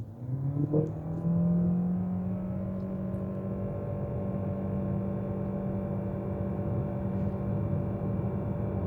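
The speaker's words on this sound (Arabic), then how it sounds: "موتور البنزين اشتغل على اعلى ريف تقريبا يقدر عليه" The petrol engine of a BYD Song L DM-i plug-in hybrid SUV revs hard under full acceleration, a steady droning hum with a brief rising whine at the start, heard from inside the cabin.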